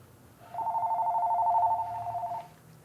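A telephone rings once indoors, a single steady warbling electronic trill of about two seconds that stands out clearly over faint room noise.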